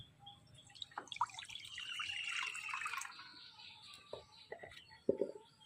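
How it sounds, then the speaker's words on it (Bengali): Water splashes into a pan on a lit gas stove to start sugar syrup for semolina gulab jamun sweets, a pour of about two seconds set between light knocks, drips and utensil clinks. "জল দিয়ে দিলাম"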